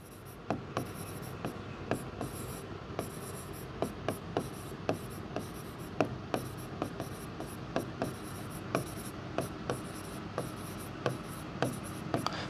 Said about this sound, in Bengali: প্রথমেই আমি আসলে তোমার এখানে নিয়মটা একটু লিখব